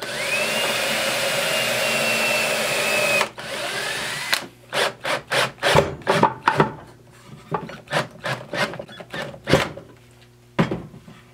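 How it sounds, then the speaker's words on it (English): A drill bit boring pilot holes into a piece of pine stacked on a dowel, starting with a steady sustained whir, then breaking into a rapid series of short, loud, close bursts as the drill pulses on and off, with no talk. "I'm going to pre-drill again."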